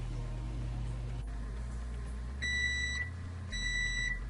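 A kitchen timer goes off while muffins bake: two sustained electronic beeps, the second after a short gap, ringing clearly over a low steady hum.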